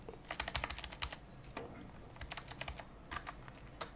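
Quiet, close keystrokes on a computer keyboard as code is typed, coming in quick irregular bursts with brief pauses between them.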